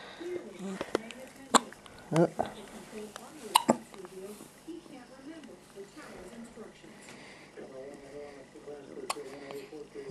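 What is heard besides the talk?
baby hiccups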